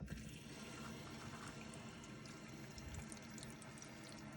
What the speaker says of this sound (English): You can hear the water going through.